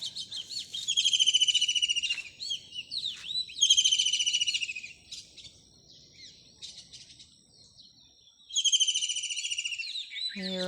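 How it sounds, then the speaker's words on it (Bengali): Birds sing in a quiet, secluded spot early in the morning: repeated bright trilling phrases come in bursts, clear and fairly close, with faint ambient murmur beneath. "এখানে এখন পাখির ডাক"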